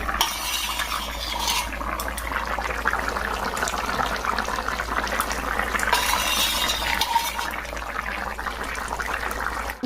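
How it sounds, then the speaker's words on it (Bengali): A pot of curry with added cumin and chili simmers steadily, giving a continuous close bubbling and hissing sizzle with faint light clinks, and no talking. "আর একটু ফুটিয়ে নিয়ে নামিয়ে দেবো তরকারিটা"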